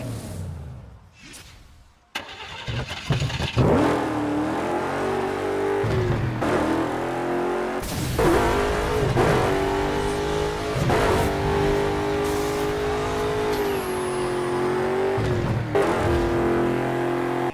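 Artificial engine sound from a Dodge Charger EV, a synthetic droning roar rising and falling through several revs, loud and steady with no talking.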